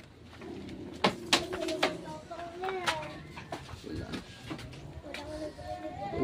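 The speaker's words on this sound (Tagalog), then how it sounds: "Uy, kalapati." Pigeons coo outdoors under trees in a few soft, low calls mixed with other ambient bird sounds and some background voices.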